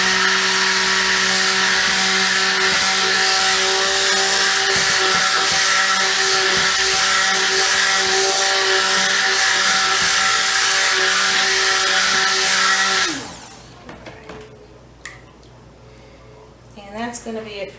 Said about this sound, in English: that's going to be it for stick blending because I don't want this to go nuts on me